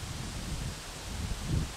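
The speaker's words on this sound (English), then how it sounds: "I'll shut up and let the wind do the talking." Steady wind gusting across an outdoor microphone, a continuous low rumbling buffet of noise that swells slightly near the end, with no voices.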